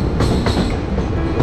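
An express train bound for Meghalaya rolls along the rails, a loud, dense, continuous rumble and rush with faint rhythmic wheel clatter.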